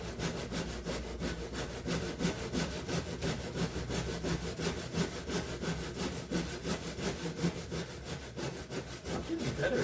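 Big tree limbs being hand sawn with a Stanley saw, steady rhythmic back-and-forth rasping strokes of the blade through wood, close and continuous, with no voices.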